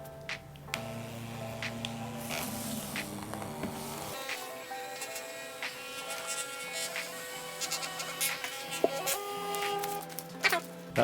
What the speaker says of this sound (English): All right, connect it to the printer,